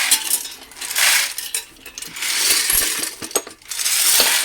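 Coins pour and jingle into a metal bucket as an old candy machine is tipped and emptied, a loud, dense metallic clatter that rises and falls in waves with brief pauses.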